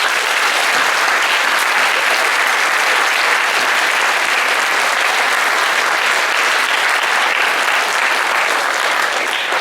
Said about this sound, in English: Let's give the newest members of the FHS Wall of Honor another round of applause, please.